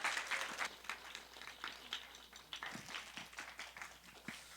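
A church congregation claps in blessing during a new-family completion ceremony at a high school worship service, a faint scattered applause with irregular individual claps and a bit of background murmur.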